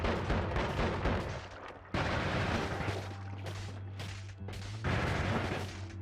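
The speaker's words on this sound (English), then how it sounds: "Explosions for everybody." Explosive spells in the video game Noita set off a run of loud, booming blasts in heavy bursts with brief gaps, dense and crackling, with no talk.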